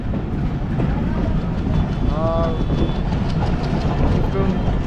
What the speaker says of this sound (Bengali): তো এখন হচ্ছে ট্রেন ছেড়ে দিছে